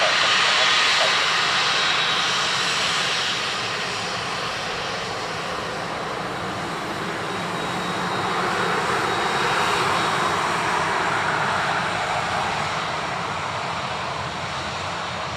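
An Aer Lingus airliner arriving from Rome lands at Dublin Airport on runway 28 left. It gives a steady, moderately distant jet rumble that dips slightly and rises again as it passes.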